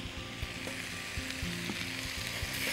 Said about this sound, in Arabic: هنشوح اللحمه بتاعتنا بالشكل ده